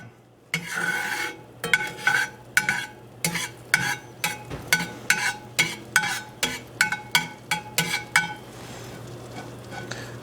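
Butter cooking in an antique cast iron pan, a low frying sizzle under a run of rhythmic metal-utensil scrapes and taps against the iron, close and regular, with no one speaking.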